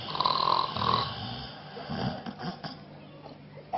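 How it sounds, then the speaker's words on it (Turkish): A man snores in rough, rasping breaths, a loud snore at the start followed by quieter, uneven breathing noises. "Ya bir horluyorsun iyi güzel de arada bir baktım nefessiz kaldın"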